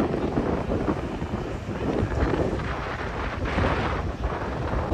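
Strong wind on Mykonos roars and buffets a microphone for several seconds, loud, rumbling and continuous, with no voices.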